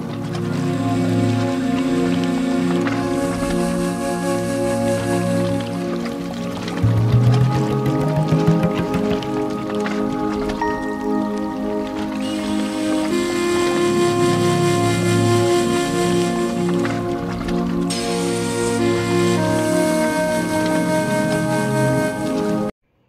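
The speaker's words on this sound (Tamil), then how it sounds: "இந்த கிளியூர் ஃபால்ஸை பார்க்க முடியும்" The Kiliyur waterfall cascades in a continuous rush of falling water, loud and close, while music plays prominently over it throughout.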